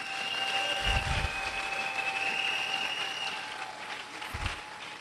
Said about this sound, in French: nous pouvons encore acclamer le Seigneur